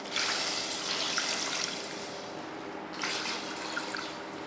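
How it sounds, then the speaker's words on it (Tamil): Water pours into a pot of mutton soup in two bursts, a steady splashing stream that pauses briefly and then resumes. "இப்போ தண்ணி சேர்த்துடலாம்"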